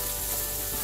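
Chicken sausage pieces sizzle in their own rendered fat in a pan with no added oil, a steady close crackle and hiss over the short moment.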